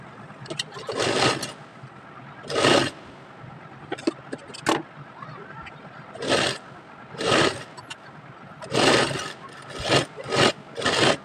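A sewing machine stitches the inside seam of a top for a 1-2 year old baby girl, running in short, loud bursts separated by brief pauses.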